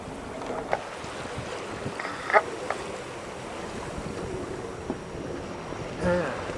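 Sailboat under sail in the Pacific Northwest after the wind picks up: steady wind rush with hull and water noise, and a few brief knocks and creaks aboard.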